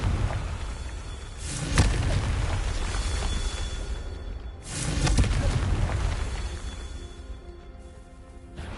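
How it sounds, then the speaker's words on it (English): Two heavy booming blasts from the Confringo fire spell in Hogwarts Legacy, each a sudden loud burst that rumbles and decays over a couple of seconds before the next, with no talking. "what you need for this is Confringo. Blast it."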